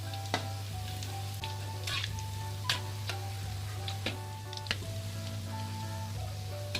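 Donuts frying in hot oil, a steady close sizzle with a constant low hum beneath it and a few sharp ticks and clicks scattered through, no talking.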